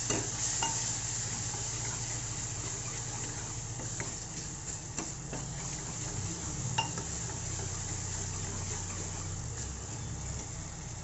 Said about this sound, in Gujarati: વઘારને આપણે બરાબર ચડવા દઈશું.